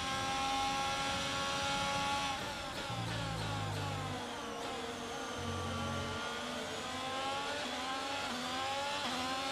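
F1 race car from the F1 22 game, a continuous loud high-pitched engine wail that rises and falls as it upshifts and downshifts, with low thumping bursts underneath and tyre noise mixed in.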